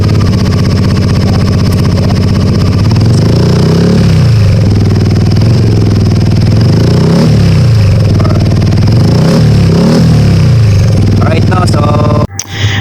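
Yamaha Aerox V2 scooter fitted with a Yoshimura full-system exhaust and no silencer, revving loudly up close: several rising and falling throttle blips over a rough, clattering idle, ending in a sudden cut-off.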